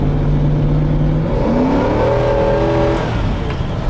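A 1999 GMC Yukon SLT 4x4 with a 350 V8 revs hard, the engine note climbing in pitch, dipping, then rising again in a loud, close roar toward the top of its power band.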